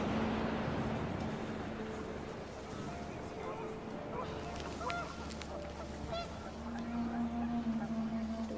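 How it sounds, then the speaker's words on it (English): Panicked geese honk repeatedly in the video game What Remains of Edith Finch, overlapping calls over wind and a low rumble, with a voice speaking throughout. "panicked geese appeared and quickly went"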